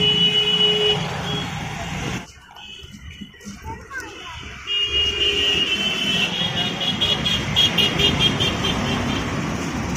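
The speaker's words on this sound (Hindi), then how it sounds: "अब देखिए ये पीछे लेके आ रहे हैं इस गाड़ी को" A homemade car with a reverse gear is driven backward, with a high, steady electronic beeping over low engine and road noise, a brief quieter gap midway, and people talking nearby.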